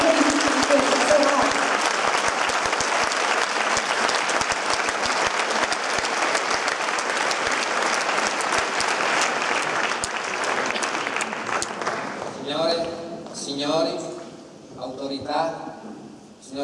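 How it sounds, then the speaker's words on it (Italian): Sustained, loud applause from a concert audience at a youth wind band evening in a Turin auditorium. It fills most of the clip and fades near the end, when a voice starts speaking. "Intanto voi se vi fate un applauso perché sono loro"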